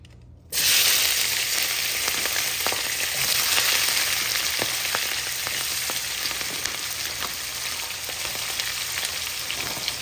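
Onion, ginger and garlic hit hot oil left over from frying eggs, starting with a sudden loud sizzle that settles into a steady, close frying hiss with small pops and crackles throughout.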